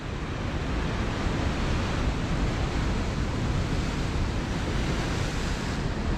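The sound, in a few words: sea waves crashing on Scottish coast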